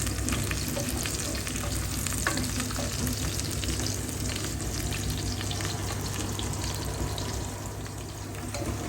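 Bean sprouts sautéing in a hot pan, with a steady loud sizzle and frying crackle throughout and occasional stirring scrapes, close by and continuous.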